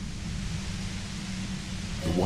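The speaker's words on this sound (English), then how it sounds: "The violent white noise becomes even more overwhelming closer to the compressor." Dense, steady white noise roars from a compressor in the video game Disco Elysium, filling the whole range loudly and evenly, with a brief swell near the end.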